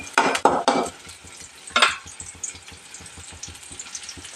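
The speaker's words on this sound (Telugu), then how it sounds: "ఇదో చూడండి కలుపుదాము ఇంకొకసారి" Bhindi curry stirred in a pan, with a few loud scraping strokes at the start and another burst shortly after, then a quieter sizzle and soft rhythmic scraping continuing to the end.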